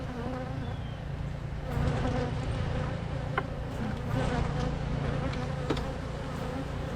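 Dense, steady hum of honey bees in a hive overrun by wax moth and beetles, a close, continuous buzz throughout with no talking.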